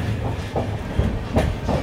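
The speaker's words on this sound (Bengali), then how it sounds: "আমাদের ট্রেন ছেড়ে আসলো সাঁতরাগাছি স্টেশন" Passenger train wheels clatter over rail joints in a steady clickety-clack rhythm beneath a constant low rumble, heard from inside a moving general-class carriage after leaving Santragachi station, Kolkata.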